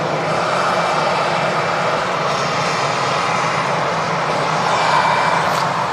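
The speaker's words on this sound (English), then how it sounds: "The A380-800. Final approach onto 23 right to Manchester" An Airbus A380-800 on final approach to runway 23R at Manchester Airport gives a loud, continuous jet-engine roar, steady and unbroken from start to finish.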